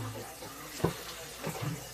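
Water from a sink faucet runs into a soda pop bottle, a brief faint splashing and gurgling with a small burst partway through.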